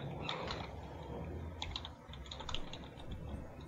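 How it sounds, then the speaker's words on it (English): Quiet, steady typing on a computer keyboard, a rapid run of light key clicks with brief pauses, faint and close with no speech over it. "Fenna calls and it sounds like the storyteller's typing"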